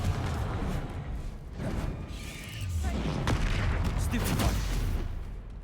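A Confringo blast spell explodes in Hogwarts Legacy: a loud, booming burst that rises midway and swells over several seconds into rumbling, crackling detonations, with broadband noise throughout.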